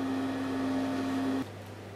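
A sewing machine stitches the main seams of a fabric portaledge for tree camping, giving a steady mechanical whir with a faint motor hum that stops abruptly after about a second and a half.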